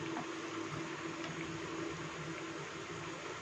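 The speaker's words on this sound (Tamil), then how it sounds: "குழம்பு கொதிச்சிருச்சு." Fish curry boiling in a pot gives a steady, close bubbling hiss that holds evenly throughout, with no voices.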